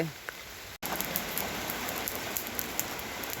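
Steady rain falls on nearby surfaces, a continuous dense patter with scattered sharper drops, heard close and fairly loud with only a brief dropout near the start.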